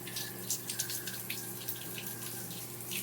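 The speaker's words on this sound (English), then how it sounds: "Rinse your face." Running tap water during a face rinse while wet shaving: a steady, close splashing rush of water from a faucet into a sink, with small irregular splashes of hands and face throughout.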